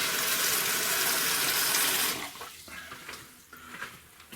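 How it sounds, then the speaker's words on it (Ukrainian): Tap water runs steadily into a jar holding three tablespoons of salt for about two seconds, then cuts off, leaving faint clinks and handling sounds. "заливаємо водою"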